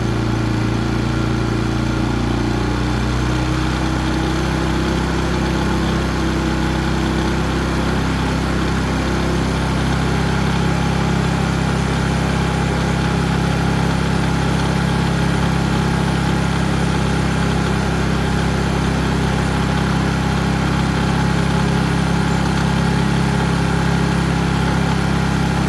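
A Predator 3500 portable generator engine runs steadily on partial choke, a loud, continuous mid-pitched drone with a deep low hum and no pauses, alone without talk.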